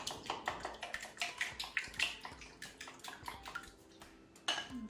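An egg whisked with a wooden spoon in a bowl, giving a fast run of close, bright clinking and tapping strokes in an uneven rhythm, with a brief clatter near the end.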